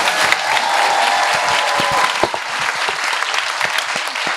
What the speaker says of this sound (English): give a big round of applause to our winners